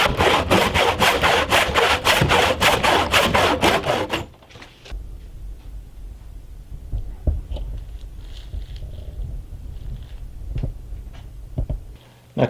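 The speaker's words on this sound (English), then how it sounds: "cutting with a handsaw is something I've never been very good at" A frame back handsaw cutting tenon joinery for a timber-framed workbench leg post, about a dozen rapid rhythmic rasping strokes up close, then the sawing stops and only faint workshop knocks and shuffling follow.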